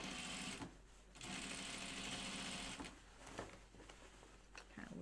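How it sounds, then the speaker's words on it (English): A sewing machine top stitches fabric on either side of a seam for a children's boot pattern, whirring in close, fast bursts with a brief pause between runs of stitching. "now we're going to top stitch it on either side of the seam"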